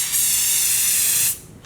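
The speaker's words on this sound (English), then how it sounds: "Now I'm going to take the velour shield, spray on to protect it," A single loud hissing burst of velour fabric protector from an aerosol spray can, held for about a second, then released.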